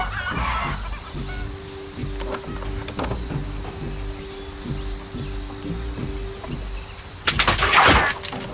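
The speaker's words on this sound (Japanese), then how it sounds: "鳥の声。" A bird call from the stealth video game Shadow Tactics: Blades of the Shogun, a clucking, fowl-like chirp repeating over a steady ambient bed, with a sharp crashing burst near the end.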